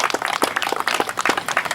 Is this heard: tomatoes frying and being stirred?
no